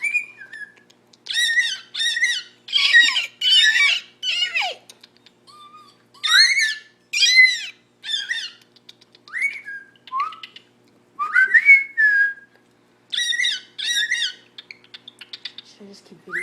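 An African cockatiel whistles and squawks in bursts of chirpy, warbling phrases separated by short pauses, close and clear against a quiet room.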